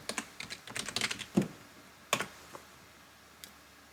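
Someone types a username on a computer keyboard: a quick run of crisp key clicks at first, then a few scattered, sharper taps with pauses in between.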